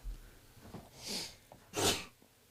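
A single human sneeze, a sharp breathy burst near the end preceded by a softer intake of breath, close and fairly quiet in an otherwise calm room.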